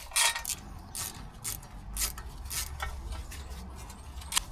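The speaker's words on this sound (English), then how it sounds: "Tighten them up, starting with the most awkward one." Bolts being tightened on the brake dust guard of a VW T5.1 van, giving a run of quick metallic ratchet clicks and small tool clatters in short bursts, fairly close and moderate in level, with no talk.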